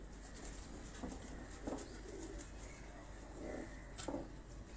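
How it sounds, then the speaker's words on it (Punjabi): Hockey pigeons coo softly in a quiet spot, with a few faint throaty calls and light rustles scattered over a low background hum. "ਇਹ ਜੀ ਹਾਕੀ ਕਬੂਤਰ ਤੁਹਾਨੂੰ ਦਿਖਾ ਰਹੇ ਹਾਂ ਜੀ"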